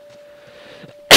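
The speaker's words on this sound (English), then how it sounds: "Oh, I gotta sneeze." A person sneezes once, loudly and close, at the very end of a quiet stretch while playing The Last of Us, with a faint steady tone and soft game sounds beforehand.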